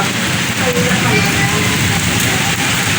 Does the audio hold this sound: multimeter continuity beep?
no